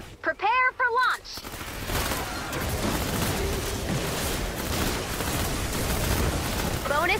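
A rocket launch in the Fortnite Canny Valley game opens with a brief spoken line, then a loud continuous roaring rumble with crackling bursts and a throaty surge that sustains for several seconds.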